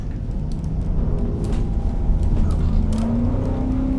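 A Spec P71 police car in the Assetto Corsa racing game, its engine droning steadily and revs climbing audibly after a downshift, a rising whine sweeping upward near the end, loud and continuous with no talk.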